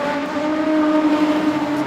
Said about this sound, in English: First move coming from the car in fourth place, looking to get underneath of the 32 of McAllister